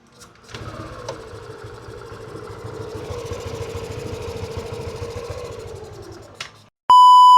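A motorcycle with engine error codes is push-started, running with a steady mid-pitched rumble for several seconds, then cutting out, followed by a sharp electronic beep.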